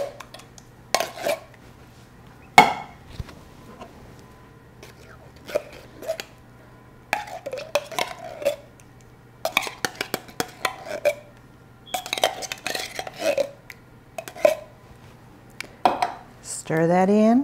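Ingredients for a sausage casserole are stirred together in a skillet, giving scattered clinks and scrapes of a utensil against the pan with gaps between, while a person talks over parts of it.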